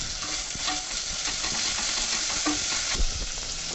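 Ginger-garlic paste sizzles in hot oil as a tempering for a Marathi mutton rassa curry, a steady dense hiss with light stirring scrapes and no talk.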